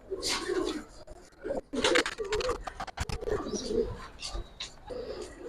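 Giribaz pigeons, a Bangladeshi tumbler breed, coo in a close, soft series of throaty, rolling calls, interrupted by a few sharp clicks and handling sounds.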